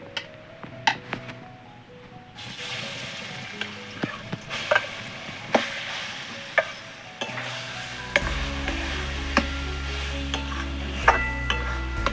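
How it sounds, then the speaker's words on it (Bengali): Papaya and chana dal mixture stirs and fries in a little oil in a pan, a steady sizzle with repeated sharp clicks of the spatula against the pan, growing louder toward the end. "অল্প পরিমাণে দিয়ে এবার এইটা একটু নেড়ে শক্ত করে নেবো।"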